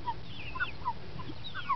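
Turken pullet clucking softly, a few short scattered chirpy clucks over low background noise, close and brief.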